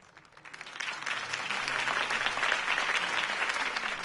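Applause from a large crowd in a Batman video game swells in quickly and holds steady as a dense, continuous clapping wash.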